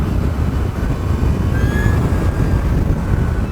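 An Energica Eva Ribelle RS electric motorcycle accelerating at part throttle, heard as a loud, steady rush of wind and road roar with a faint rising motor whine.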